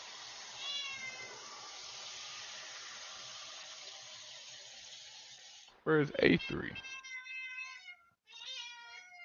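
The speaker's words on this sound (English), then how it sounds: "Somebody's cat's mad." An angry cat meows loudly in a run of harsh, strained cries near the end, following a stretch of steady background noise and a voice asking a question.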